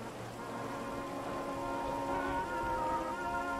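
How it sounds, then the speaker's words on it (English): Steady rain falls in Grand Theft Auto V, a dense, even hiss of drops hitting surfaces with a faint low rumble underneath, constant and fairly loud throughout with no talking. "It's the rain"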